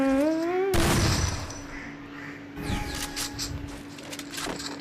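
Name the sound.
gunshots in a video game shooter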